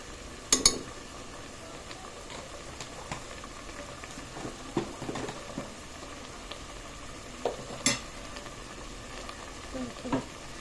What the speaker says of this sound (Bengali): একটু নাড়াচাড়া দিয়ে দেই